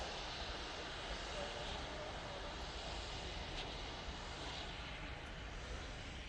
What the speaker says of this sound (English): Ryanair coming in from Dublin now.